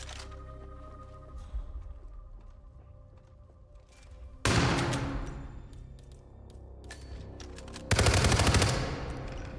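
Loud bursts of assault rifle and shotgun gunfire in the Hitman 3 video game, with two sharp, dense volleys standing out against a quieter ambient game background.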